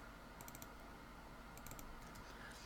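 Computer keyboard keys and mouse clicks tapped while selecting tracks in audio software, coming as two short clusters of quick, light clicks over a steady background hum, with no speech.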